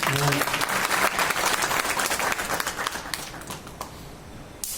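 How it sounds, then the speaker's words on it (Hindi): An audience applauds at a gathering: dense, steady clapping from many hands, close and loud at first, then thinning out into scattered claps toward the end. "तालियां बजाने के लिए।"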